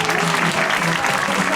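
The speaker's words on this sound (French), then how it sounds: "Et vous pouvez bien sûr applaudir Cléo." Audience at a zoo sea lion show clapping for Cléo the sea lion, a brief, fairly loud burst of continuous applause with faint voices mixed in.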